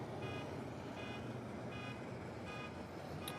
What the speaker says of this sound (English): it's loud enough that we're setting off car alarms.